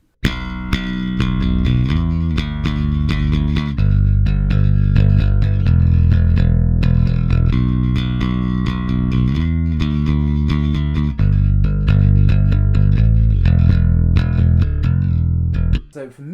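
Bass guitar played through a Darkglass distortion pedal straight into the rig, a loud, thick, growling tone with sustained distorted notes and slides in a continuous riff, close and alone.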